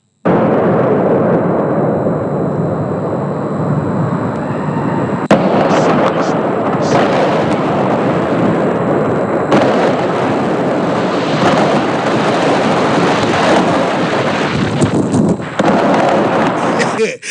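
Fireworks set off by Liverpool supporters outside a hotel on Merseyside make a dense, continuous barrage of loud crackles and bangs, with wind buffeting the microphone and someone talking over them.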